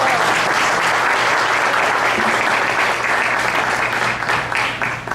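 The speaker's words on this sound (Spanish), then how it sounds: "yo les pido un fuerte aplauso para ellas" Loud, sustained audience applause at a Cuban exile tribute to José Martí in Puerto Rico, dense clapping from a crowd filling the whole stretch without a break, close and strong.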